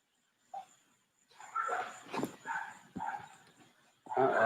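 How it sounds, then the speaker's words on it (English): Several dogs bark, yip and whimper in a scuffle, short overlapping bursts at moderate distance with a steady faint tone behind them. "I hear dogs bickering."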